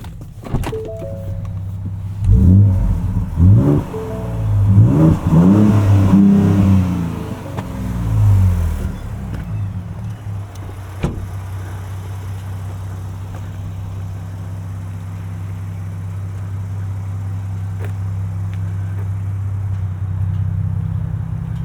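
Engine of a 2024 Ford Ranger Raptor pulling as the truck drives, loud revving climbs for several seconds, then eases into a steady low drone of cruising for the rest of the stretch, no talking.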